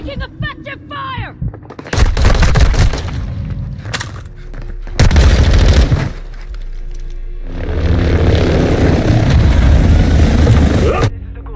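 Loud bursts of automatic gunfire in Call of Duty Warzone 2.0, coming in heavy dense volleys with short gaps between them, mixed with crashing impacts and a steady rumbling din.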